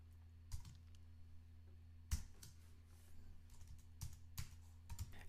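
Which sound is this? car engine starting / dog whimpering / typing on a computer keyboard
typing on a computer keyboard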